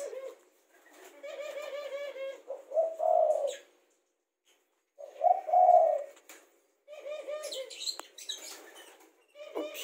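Ringneck and spotted doves coo in repeated rolling phrases, close and clear, with pauses between bouts and faint chirps in the background.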